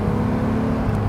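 A BMW Z3 3.0i roadster's engine revs up to about 4,000 RPM as it pulls out onto the road, a loud, steady, deep and grunty drone heard close up throughout with no talk.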